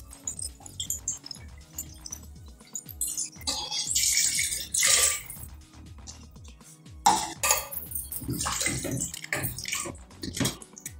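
Half a litre of water poured over 300 grams of chicken breast in a pot for a creamy chicken pie: a close, uneven splashing that swells and fades in several bursts, with no talk.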